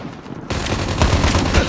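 Machine gun fire in the video game COD Mobile bursts in after a brief lull, a loud, dense, continuous rattle of rapid shots.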